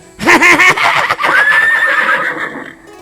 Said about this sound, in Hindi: जो घोड़ा हिनहिनाट करता है